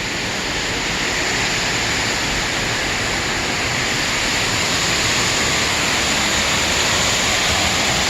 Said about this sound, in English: Did you see the waterfall?